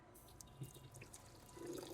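A cup of water is poured over three cups of sugar in a pan, giving a faint trickling, dripping splash that grows slightly fuller toward the end.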